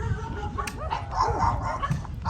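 Dogs at a home barking and whimpering in short yips and bow-wows, moderately close amid ambient noise, several calls scattered across the stretch.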